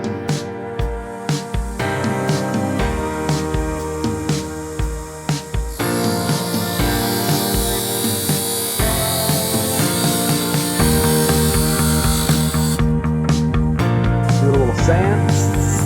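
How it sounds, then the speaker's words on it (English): An abrasive cutoff wheel trims golf iron shafts to playing length for a set of Bettinardi irons, a loud sustained grinding whine lasting several seconds over a steady tonal background. "We're going to trim them off with our cutoff wheel and get them to playing length"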